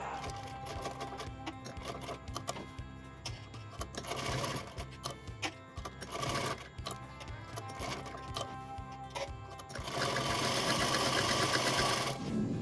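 Sewing machine stitching a kurti with a neck patch and lace, running in steady rapid bursts with brief pauses, the motor whirring louder and busier toward the end.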